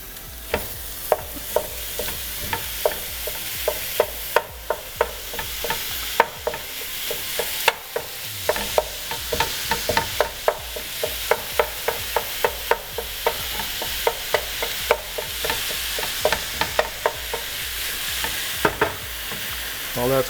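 Ground turkey frying in a pan for stuffed sweet bell peppers, a loud, constant sizzle punctuated by frequent rhythmic scrapes and clacks of a utensil stirring and breaking up the meat, with no one talking.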